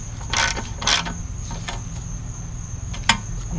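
A ratchet with a half-inch socket turning a bolt while working on a Poulan engine: a few short bursts of rapid metallic clicking, close up, separated by pauses.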